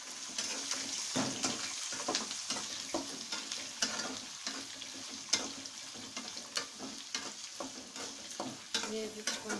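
Curry leaves, garlic, ginger and onion sizzle steadily in a hot pan, a dense crackling fry with scattered stirring scrapes throughout and no talking.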